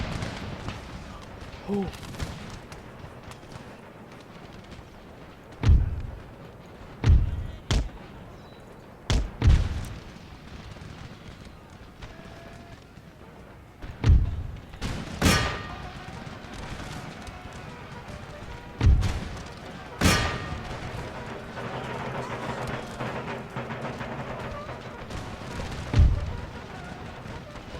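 Musket volleys and cannon booms from armies in Empire Total War thump out as about ten spaced, heavy reports over constant battle noise, with a voice talking now and then.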